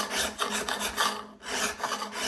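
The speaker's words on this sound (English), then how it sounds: "I'm gonna get my file and I'm gonna clean that edge up." A hand file rasps back and forth along the edge of a steel cabinet scraper clamped in a vise, with steady rhythmic strokes, close and alone, with a brief pause midway.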